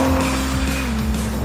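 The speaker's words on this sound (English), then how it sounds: "the mighty Vauxhall Vectra engine is working well" Car fitted with a Vauxhall Vectra engine driving on a motorway, a steady loud engine drone with a sustained low tone and road roar throughout, no talk.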